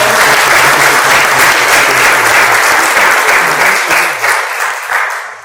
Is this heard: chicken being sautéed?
no